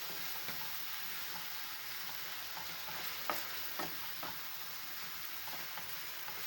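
Homemade tomato sauce sautéing in a frying pan with eggplant and ground meat, a steady broadband sizzle with a few soft clicks of a utensil stirring near the end, no voices.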